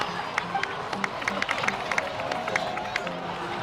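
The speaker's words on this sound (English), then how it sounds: "please give another round of applause for them" Cheering and applause from a crowd in a Genshin Impact cutscene, with scattered claps and a busy murmur of many voices at moderate level throughout.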